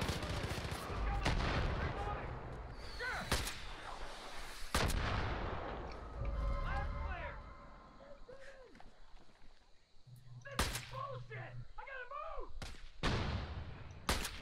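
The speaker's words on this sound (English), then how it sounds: "they're shooting at us" Gunfire from enemies in Far Cry 5 Arcade: repeated sharp shots and bursts crack across the scene, some loud and close, others more distant, with voices talking over stretches of it.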